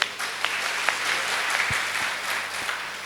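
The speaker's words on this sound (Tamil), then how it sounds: "இந்த ஒலி அமைப்புக்கு ஒரு நல்ல ஒரு கரகோஷம் கொடுங்க." Audience applause at a Tamil comedy talk event, a steady wash of many hands clapping from the crowd, fairly even in level throughout with no voices rising above it.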